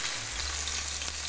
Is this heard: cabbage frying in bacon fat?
yes